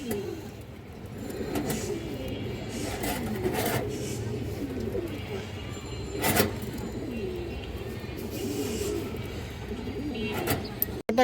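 A high-quality female breeder pigeon coos in low, rolling repeated phrases nearby, with scraping and rubbing noises and a few sharp knocks in between.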